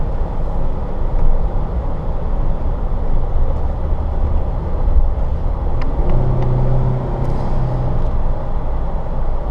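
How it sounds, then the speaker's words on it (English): A 2008 Jeep Wrangler Unlimited Sahara out on a test drive gives a steady, continuous engine and road rumble from inside the cabin, even in level throughout with no voices. "I'm actually going to get up onto the interstate, get about 75, 80 miles per hour just to show you that this truck is driving exactly the way that it"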